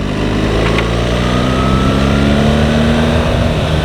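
A BMW R1300 GSA motorcycle engine drones loud and close while riding. Its rising harmonic tones shift pitch as the gears change, over steady wind and road noise.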